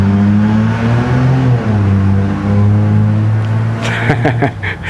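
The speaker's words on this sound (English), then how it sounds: "We got cars going by." Cars driving by on a street, a steady loud engine hum and rush of a close passing vehicle, with another car revving briefly near the end.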